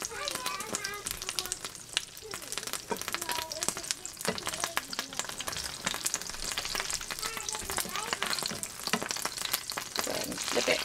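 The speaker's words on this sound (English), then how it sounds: "I keep a splatter screen nearby because it will start popping once the juice from the cherry filling comes out." Cherry-filled burritos frying in hot oil, a dense continuous sizzle with rapid crackling and popping, loud and close throughout with no one speaking.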